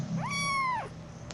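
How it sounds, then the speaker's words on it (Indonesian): A cat in the toll-keeper game 1998 the Toll Keeper Story gives one clear, drawn-out meow that rises, holds and falls over soft background noise. "Iya ada kucing."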